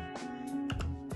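A Royal Kludge RK61 60% mechanical keyboard gives a few sharp, clicky key presses, spaced unevenly and heard close up in a quiet room.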